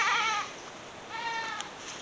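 A goat bleats twice, a loud drawn-out cry followed by a softer, shorter bleat, close by against a quiet background.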